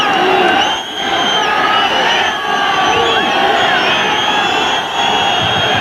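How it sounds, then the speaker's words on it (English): A rugby crowd at the 1994 Neath v South Africa match whistles at the referee, with sharp shrill whistles rising and falling over a loud, continuous roar of voices. "the crowd whistling to the referee"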